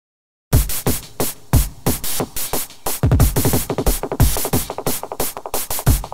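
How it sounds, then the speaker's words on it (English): A beat run through iZotope Trash, with the distortion module placed after the delay: loud, gritty, punchy hits repeating in a steady rhythm, with dense distorted echoes filling the gaps and no talking. "Let's put the distortion after the delay."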